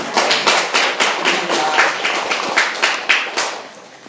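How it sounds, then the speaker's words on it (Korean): A small audience at a peace-themed concert gives a round of applause, with loud, close, rhythmic hand-claps that fade slightly toward the end. "구직갱이 신영주 씨께 다시 한번 박수 부탁드립니다."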